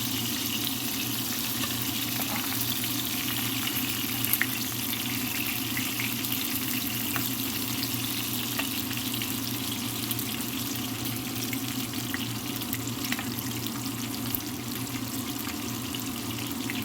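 Continuous crackling and hissing of khusa and meat frying in a pan, with sharp little pops scattered through a steady sizzle; no voices.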